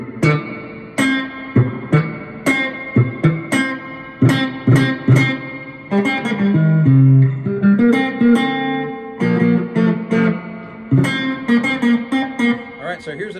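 Three-string cigar box guitar plays a funk riff, raking across the strings into short, punchy, slightly distorted notes. Syncopated phrases with a few sustained bends, loud and close.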